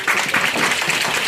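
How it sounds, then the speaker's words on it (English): Audience at a scientific association's inaugural meeting gives a short burst of applause after a presentation, dense clapping at an even level throughout. "Let's applaud once more."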